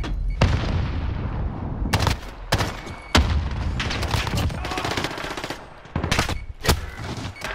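Loud video game gunfight gunfire: sharp, close shots and rapid automatic bursts crack out repeatedly, with a rumbling, noisy battlefield underneath throughout.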